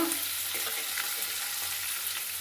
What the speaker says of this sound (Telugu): పచ్చిమిరపకాయలు వేస్తున్నాను